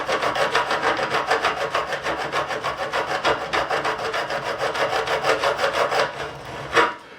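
Fret ends on the neck of a 1978 CBS-era Fender Stratocaster being filed in quick, even back-and-forth rasping strokes, loud and close, running continuously before a final heavier scrape.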